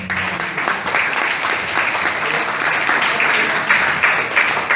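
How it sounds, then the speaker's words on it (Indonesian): Audience applause for Prof. Jhonatan Golden at a campus lecture, steady dense clapping from a large crowd lasting several seconds, loud and close, with faint voices underneath. "Jadi kita kasih aplaus untuk"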